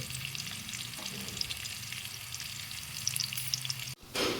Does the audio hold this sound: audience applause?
no